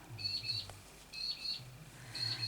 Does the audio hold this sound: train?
no